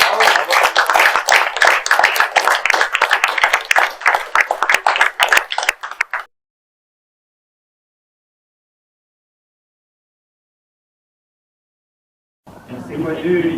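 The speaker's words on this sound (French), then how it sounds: "On peut l'applaudir." Clapping at a civic award ceremony in the Senate, a crowd applauding steadily and fairly close for about six seconds, then silence before a voice begins speaking.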